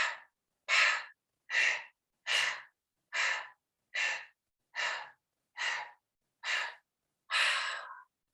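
Ten sharp, forceful breaths during a yoga leg-lift exercise, breath of fire style, each a short, loud, airy puff at an even, steady pace close to the listener, with no talking.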